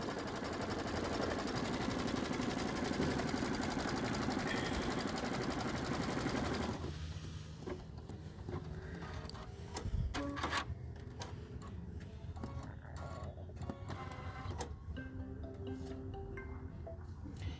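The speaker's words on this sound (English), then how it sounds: "we're just going to stitch the crosshairs directly onto our stabilizer" An embroidery sewing machine stitches crosshairs onto stabilizer, a dense fast rattle for about seven seconds, then lighter, scattered ticking and clicks as it runs on more quietly.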